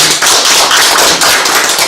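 Loud, dense audience applause at a Korean citizen-reporter appointment ceremony in Jecheon, steady and close throughout the short burst.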